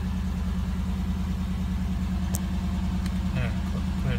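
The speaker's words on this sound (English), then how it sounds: "So let's kill the engine." A 1989 Cadillac DeVille with the 4.5L V8 idles steadily, a low even rumble with a regular pulsing throb, close and continuous, with faint clicks and light background sounds on top.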